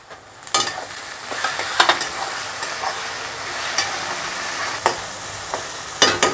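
Tomatoes frying in a pan with fried chilli, onion and garlic, sizzling steadily while a spoon stirs and scrapes, producing repeated sharp clinks and scrapes over the continuous hiss, close and fairly loud.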